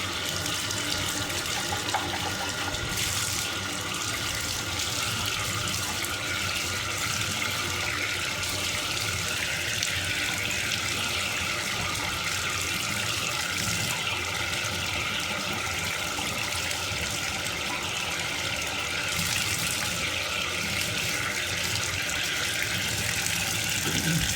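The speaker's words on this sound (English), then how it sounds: "I just put real hot water on it and rinse it off real good" Hot tap water runs steadily and loudly into a sink for a long stretch, with splashing shifts as a fish tank item is rinsed under the stream.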